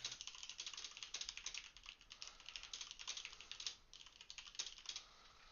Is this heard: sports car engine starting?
no